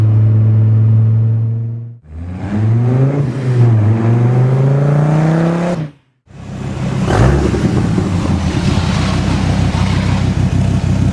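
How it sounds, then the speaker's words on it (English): A supercharged Dodge Viper GTS V10 accelerating hard, heard loud and close: a deep rising engine roar climbing through the revs, a brief drop at a gear change, then a harsh, rumbling surge with supercharger whine. "the V10 has such a distinct sound"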